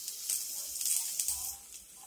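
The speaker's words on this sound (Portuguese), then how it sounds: "Você vai deixar a salsicha fritar junto" Sausage fries in a pan with margarine, colorau and salt, giving a close, steady high sizzle with small crackling pops rising and falling, alone without talk.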